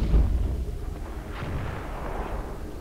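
Artillery salvo in the war strategy game Men of War: a heavy boom at the start and then further rumbling blasts that roll on under a continuous low battlefield din.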